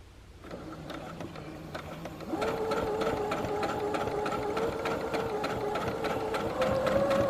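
A sewing machine stitches Dresden plate quilt pieces with a steady mechanical hum. It starts slowly, then picks up speed and runs continuously at a higher pace, close and clear.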